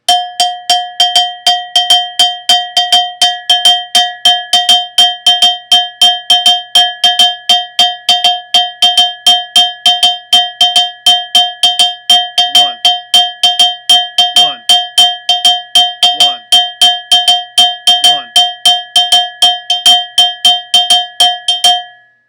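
An ogan, a struck iron bell, plays a Yanvalou rhythm at full tempo, with bright metallic strikes in a steady repeating pattern with doubled hits, loud and close, continuing alone for over twenty seconds.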